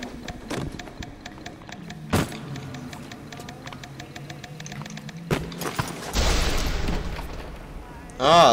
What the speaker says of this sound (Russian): А, то есть они потом взрываются?